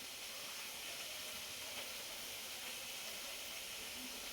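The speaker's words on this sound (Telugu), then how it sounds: "అన్నీ ఒకదాని మీద ఒకటి వేయకుండా ఇలా పక్క పక్కన స్ప్రెడ్ చేశారనుకో ఈక్వల్గా ఫ్రై అయిపోతాయి" Okra frying on a flat iron tava makes a constant faint hiss, even and unbroken throughout, with no voices.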